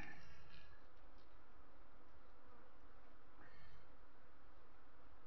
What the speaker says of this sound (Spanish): Parecía que no había abejas, pero sí había